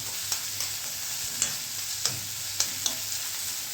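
Vegetables with green peas and ginger fry in a pan with a constant close sizzle, punctuated by several sharp clicks of stirring spaced roughly half a second apart.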